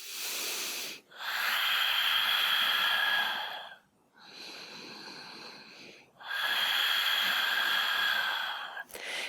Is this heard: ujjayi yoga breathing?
yes